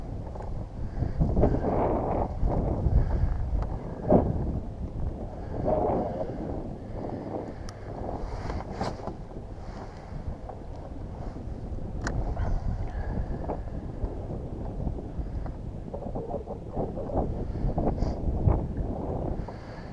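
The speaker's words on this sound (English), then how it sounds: "The wind's blowing, as you can see." Wind blowing across a lake on a cold day, heard from a kayak during fishing: steady broadband rushing and buffeting close to the microphone, rising and falling in gusts throughout.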